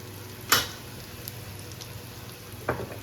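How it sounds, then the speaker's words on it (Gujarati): Dried chillies, curry leaves and asafoetida temper in hot oil, giving a soft, steady close sizzle with two brief louder bursts of spattering. "મરચાં અને લીમડો સરસ એવા ક્રિસ્પી થઈ ગયા છે"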